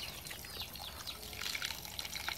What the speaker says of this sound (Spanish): Vamos a echarle un poquito de agua.